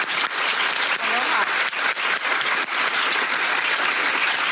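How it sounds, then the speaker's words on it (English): An audience gives a big round of applause for Senator Mazie Hirono at a law school graduation lecture, dense sustained clapping from a large crowd filling the room from start to finish. "I'd like a big round of applause for Senator Hirono"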